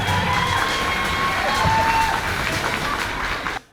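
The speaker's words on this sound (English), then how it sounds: "So let's give a big round of applause for them" A crowd cheers, whoops and claps together at a maker event, a loud continuous wash of voices and applause that holds steady, then cuts off abruptly at the end.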